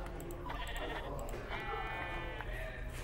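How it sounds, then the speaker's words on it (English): A sheep bleats in a video game, most likely Minecraft, with a couple of wavering calls over a dense, steady background noise of game sound. "Oh look, sheep."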